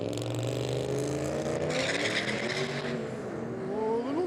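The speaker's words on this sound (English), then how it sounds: "we've got a turboed LS out here now" Turbocharged LS-powered VZ Commodore on a drag strip, its loud engine roaring and climbing in pitch as it pulls away, with a steady high whine over the drone.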